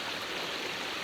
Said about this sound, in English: This is pretty fast running water.